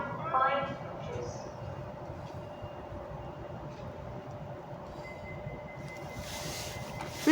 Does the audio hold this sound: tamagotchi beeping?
no